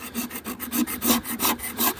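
A hive tool scrapes propolis off the wooden frame of a beehive in quick rhythmic strokes, about a dozen rasping passes close up with no talking.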